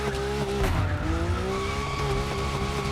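A RUF CTR-3 drifts in The Crew Motorfest, its tires squealing in a continuous, wavering screech over a steady engine roar, close and loud with no talk.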